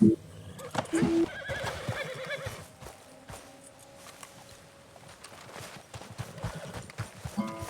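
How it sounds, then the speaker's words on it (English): A spooked horse in Red Dead Redemption 2 gives a loud whinny near a rattlesnake, followed by a steady clip-clop of hooves and small game sounds, with no talking. "What's going on with my horse? What is he spooking about?"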